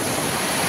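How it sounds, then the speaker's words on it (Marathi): Floodwater surges down a river brimming after a 3 a.m. rainstorm, a loud, dense, unbroken rush close by with no voices. "तुम्ही पाण्याचा आवाज ऐकू शकता बघा"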